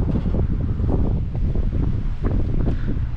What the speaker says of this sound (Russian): Усиливается ветер